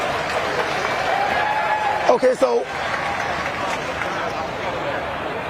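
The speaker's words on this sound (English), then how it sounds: "there's a lot of claps" Crowd clapping at a Bangkok governor election event in 2022, a steady broad wash of applause running throughout and continuing under a brief spoken phrase.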